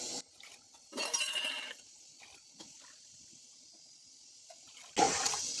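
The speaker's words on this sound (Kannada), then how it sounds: "ಆಲ್ರೆಡಿ ಅಲ್ಲಿ ಒಂದು ಲೋಟದಷ್ಟು ಮಸಾಲೆಯಲ್ಲೆಲ್ಲ ಇರೋದ್ರಿಂದ ನಾಲ್ಕು ಲೋಟ ನೀರು ಹಾಕ್ತಾ ಇದ್ದೀನಿ" Water is poured from a cup into a pot of rice and mushroom masala for biryani, coming in a few short splashing bursts of pouring with quiet gaps between them, close by and with no talking.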